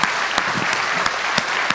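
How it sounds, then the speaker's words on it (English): Loud, dense applause from a roast audience fills the space, with a few sharp, close claps popping out above the steady crowd clapping. "Give me a huge round of applause."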